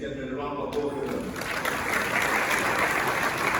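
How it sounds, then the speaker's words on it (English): Audience applause at an awards event honoring top CEOs, a dense, steady wash of many hands clapping that swells slightly louder after the first second and holds throughout. "Ladies and gentlemen, a round of applause for them."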